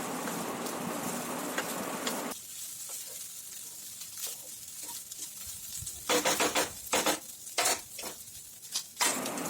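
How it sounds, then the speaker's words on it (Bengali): Leftover rice being stirred with fried spices in a pan, a loud sizzle that drops away after a couple of seconds, then close bursts of spatula scraping and clattering against the pan near the end. "ভালো করে নেড়ে চেড়ে ভাতের সঙ্গে সব মশলাগুলো ভালো করে মাখিয়ে নিতে হবে"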